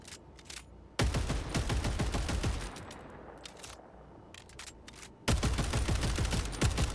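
Polar Patriots weapon firing in Helldivers 2, two long loud bursts of rapid automatic gunfire separated by a brief pause, sharp and close with no talking.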